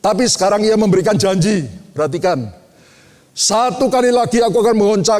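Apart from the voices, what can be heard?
None of the usual background noises is heard.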